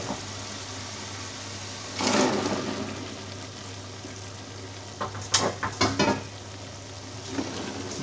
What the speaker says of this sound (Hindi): लेकिन चलें अभी डालते हैं चने।